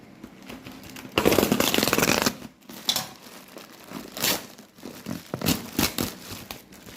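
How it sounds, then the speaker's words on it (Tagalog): Plastic packaging around a wired Zeus keyboard crinkles and rustles as it is unboxed, close and uneven, in bursts of crumpling and tearing separated by brief pauses. "I-unbox natin itong nabili natin sa Shopee."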